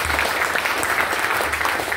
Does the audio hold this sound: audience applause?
yes